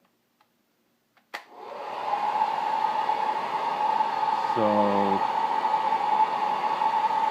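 A standard 1500-watt hair dryer switches on with a click and runs as a steady, loud whoosh of blowing air while heating an iPad Air screen, with a brief low hum partway through.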